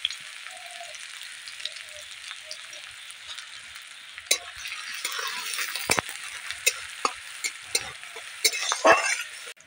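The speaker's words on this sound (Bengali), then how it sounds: "পেঁয়াজ কুচিটা দিয়ে দিলাম" Chopped onion fries in mustard oil with dried red chillies and a pinch of cumin, giving a steady close sizzle. Stirring clinks and scrapes come in, and the sizzle grows louder and busier partway through.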